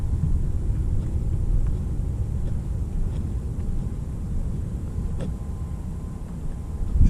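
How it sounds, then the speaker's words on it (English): A continuous low jet-engine-like rumble drones steadily outdoors in Dallas while someone walks, loud and unbroken with faint ticks over it. "Sounds like a jet engine."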